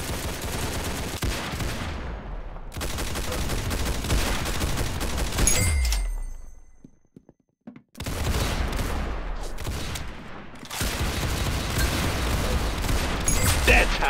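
Rapid bursts of gunfire from a shooting video game, loud and dense, stopping for about a second of near silence before resuming just as heavy.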